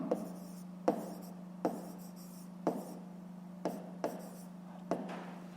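A pen scratches out an answer in a fifth-grade maths exercise, several short strokes and taps in an irregular rhythm over a low steady hum, close and quiet.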